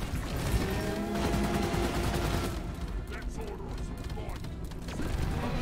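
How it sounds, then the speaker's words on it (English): Fully automatic Subata pistol fire in Deep Rock Galactic runs as a dense, continuous rattle of rapid shots, loud and close, mixed with mechanical clatter and other game noise. "It's almost like fully automatic fire just made me waste all my ammo."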